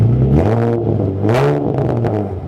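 A car engine revs hard and loud close by, the pitch climbing in strong rising sweeps toward about 4000 rpm, then easing and surging again.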